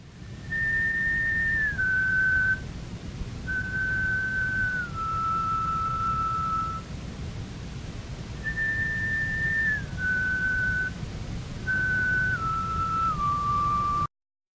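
A series of clear, airy flute-like whistling notes from a replica Neanderthal bone flute in short phrases, each stepping down in pitch, over a low steady background rumble.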